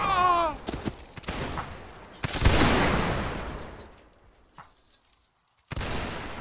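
Musket volleys crack out in a Mount & Blade linebattle, several sharp reports in quick succession with a long rolling echo that fades into quiet before another shot bursts in near the end.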